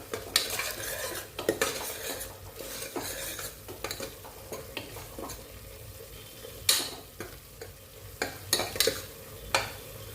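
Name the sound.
stirring minced meat ball gravy with salt in pan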